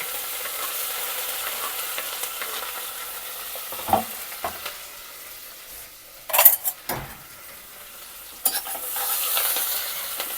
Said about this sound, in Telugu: కొంచెం అండ్ ఆనియన్స్ యాడ్ చేసేస్తాను